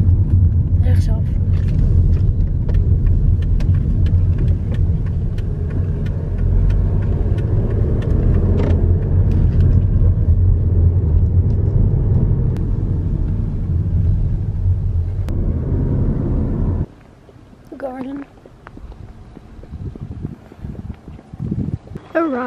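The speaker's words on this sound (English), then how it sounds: "we're driving for 15 minutes, I think, before we arrive" A car drives along a road toward Parc Broekhuizen, giving a steady loud engine and road rumble with some wind noise for about fifteen seconds before it drops away to quieter, intermittent sounds.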